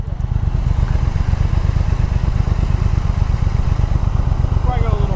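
Triumph Speed Twin motorcycle engine running steadily on a demo ride, a dense continuous low rumble with throttle pulses and wind, loud and close throughout.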